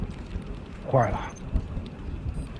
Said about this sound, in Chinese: 首长，现场下雨了。